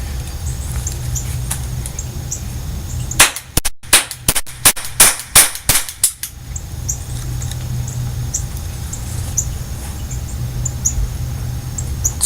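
A toy cap gun fires a quick burst of about seven or eight sharp snapping cracks, close and loud, over steady background hum, then quiet returns.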